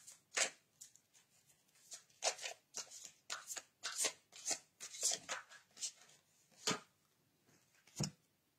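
Cards shuffled for a tarot-style reading, a run of crisp riffling bursts repeating at an uneven rhythm, close and fairly quiet with no talking.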